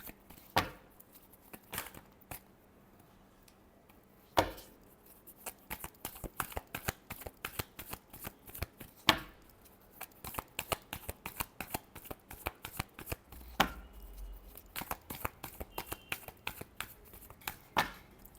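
Tarot cards are shuffled close by in steady runs of crisp riffling flicks and soft slaps, with a few sharper taps and quiet stretches between bursts and no speech.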